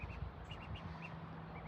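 Ducklings kept in a box under a heat lamp give several soft, faint quacks and peeps over a steady low hum.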